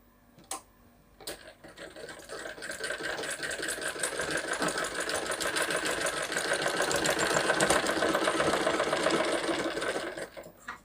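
A sewing machine stitches a blouse in one continuous run that builds up and then eases off, near and steady, with a couple of sharp clicks at the start.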